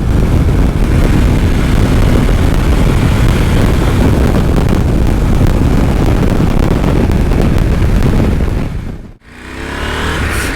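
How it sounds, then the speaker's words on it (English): A Husqvarna Norden 901 motorcycle's engine roars loudly and steadily for about nine seconds, dipping abruptly near the end before picking back up, with no talk over it. "This is definitely not a motor for top speeds, but punchy when it comes to get going."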